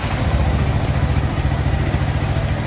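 Yamaha R15 V3 motorcycle engine idling steadily up close, a continuous low rumble with light mechanical clatter throughout.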